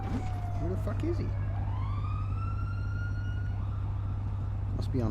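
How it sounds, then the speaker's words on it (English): A police siren in the RedlineRP video game, wailing as a rising and falling tone over a steady low engine hum, moderately distant, with brief clicks and bursts at the edges. "I hear a siren."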